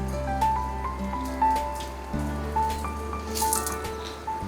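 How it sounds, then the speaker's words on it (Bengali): Bengali pea chops (koraishutir chop) fry slowly in hot oil, giving a close, steady sizzle with soft crackles and small pops throughout. "দেখো আস্তে আস্তে করে ভেজে লাল করে তুলে নেব।"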